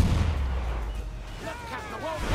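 Ship cannons boom repeatedly during a naval battle in the video game Assassin's Creed IV Black Flag, a dense, rumbling barrage that continues steadily while a person talks over it.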